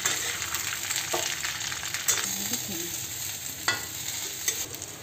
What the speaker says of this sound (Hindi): अब इसमें हम कटा हुआ सब्जी डाल दें अब इसको अच्छी तरह मिला लेते हैं